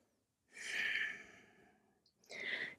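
Two audible breaths during a yoga flow, a long airy exhale followed by a shorter one, close and clear against silence.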